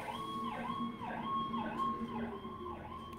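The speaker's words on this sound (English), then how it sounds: "I'll let the sirens go by." An emergency siren wails in a repeating up-and-down pattern, moderately distant and steady, with no other sounds over it.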